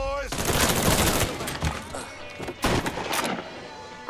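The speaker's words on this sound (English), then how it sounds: "Are you trying to shoot at me with a shotgun?" Gunfire in the Mafia 3 game, a series of loud, close blasts and rapid shots with sharp bursts around the middle and near the end, ringing out amid battle noise.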